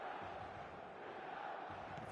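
A large stadium crowd in an eFootball match, a steady distant roar of cheering and chanting that holds at a constant level throughout, with no talk over it.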